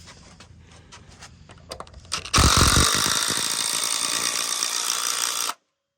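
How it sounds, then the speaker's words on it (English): A power drill drives screws into a wooden saw horse: a few faint knocks and handling sounds, then a loud, sustained whirring burst for about three seconds before it cuts off abruptly. "I can unclamp this now so that I can screw this together."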